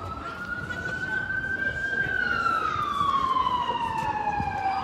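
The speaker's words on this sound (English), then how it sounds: "I pray for that ambulance, everybody." An ambulance siren passes near a railway station, a steady loud wail that rises and then slowly falls in pitch as it goes by, heard alone over a constant street hum.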